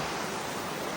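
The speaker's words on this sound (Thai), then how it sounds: "มีน้ำทานแบบน้ำตก" Steady broadband rush of waterfall water flowing near the entrance to a forest cave, continuous and fairly soft, with no voices.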